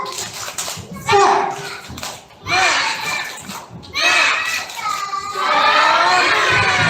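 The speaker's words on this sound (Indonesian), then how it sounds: "Oke, tepuk semangat." Group of primary school children at a spelling bee competition shout a spirit chant in bursts with claps, loud and energetic, with crowd noise and cheering between phrases.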